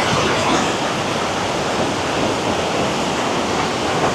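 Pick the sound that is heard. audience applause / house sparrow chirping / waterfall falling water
waterfall falling water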